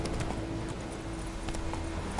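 Roach the horse gallops in a video game, steady clip-clop hoofbeats running continuously at moderate level over a constant low hum, with no talk.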